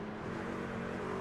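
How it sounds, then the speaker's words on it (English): Race car engine in an oval racing video game, a steady faint buzzing drone with a rising pitch, alone without talk. "I'm just listening to the engine"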